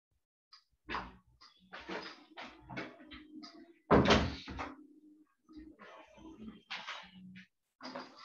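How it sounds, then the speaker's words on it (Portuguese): A door is pulled shut amid a series of knocks and thuds. The loudest bang lands near the middle, surrounded by quieter shuffling and handling sounds. "Deixa eu fechar a porta ali, que tá me muito barulho."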